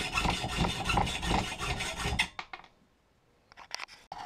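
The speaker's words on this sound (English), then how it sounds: "now I want to cut out the rest of the bolts." A metal-cutting tool grinds through bolts on a beam during a TV wall-mount build, a loud steady rasping for about two seconds, then cutting stops, leaving a few sharp taps and clicks with no speech.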